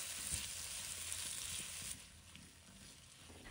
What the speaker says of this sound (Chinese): 这里我们把西红柿要多给它炒一会，把它炒出汁水来